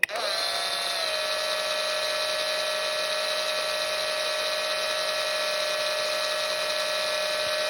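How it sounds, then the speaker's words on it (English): Steady high-pitched whine of a power drill bit boring into a Hot Wheels toy car body, held at a constant tone after a quick spin-up, close and continuous with no talking. "let the drill bit do the work"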